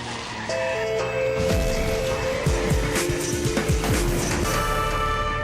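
Cars racing over a third-of-a-mile roller coaster course of ups and downs, engines droning and revving steadily under music-like tones, with rattling impacts as they go over the course.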